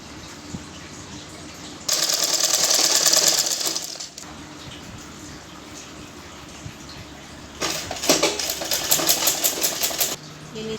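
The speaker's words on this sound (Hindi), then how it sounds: "फोल्ड करके इसको यहाँ पे सिलाई लग जाएगी।" A sewing machine stitches a 42-inch blouse in two loud, close bursts of rapid mechanical whirring, each about two seconds long, separated by quieter handling sounds.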